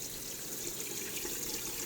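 Water sprays steadily over a freshly cut part from a Wazer water-jet cutter, a continuous close hiss of rinsing with no break or talk.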